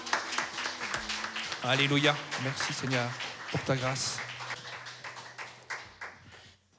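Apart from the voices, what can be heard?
audience applause during church service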